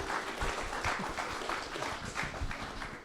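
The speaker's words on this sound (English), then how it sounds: "Everyone give Lee a round of applause." An audience at a live show applauds in a steady, dense wash of clapping that continues for a few seconds, moderately distant and without speech over it.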